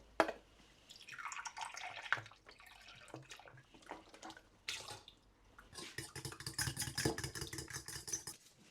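About 50 ml of apple cider vinegar is poured into a keto bread mixture, heard as soft, close liquid trickling and dripping that comes and goes, then turns into busier, wetter splashing toward the end.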